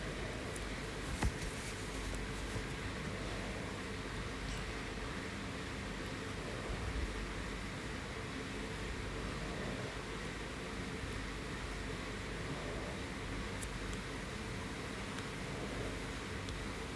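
Steady air-conditioning hum and broadband room noise inside an air-conditioned bus station, continuous and even throughout with faint distant clatter and no clear voices.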